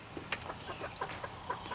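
Chickens cluck in short, soft bursts, a few birds murmuring close by with scattered higher squawks, as they are fed a bucket of fermented feed.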